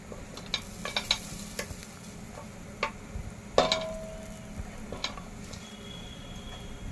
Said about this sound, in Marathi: दोन चमचे तेल आणि थोडं बटर हे वितळून घेऊया